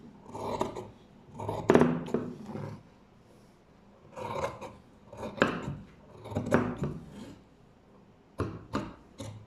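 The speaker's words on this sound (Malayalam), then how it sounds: "ഇതിനെ ഇനി കട്ട് ചെയ്യണം." Scissors cut fabric during tailoring, heard as several short bursts of close snipping and rustling, each separated by brief pauses.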